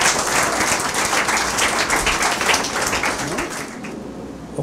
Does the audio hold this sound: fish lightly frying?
no